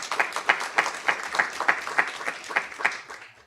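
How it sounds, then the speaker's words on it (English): Steady, warm applause from an audience at a university ceremony marking an aerospace agreement with the Bahamas, with many hands clapping in a rhythmic swell that fades out at the end. "give him a round of applause"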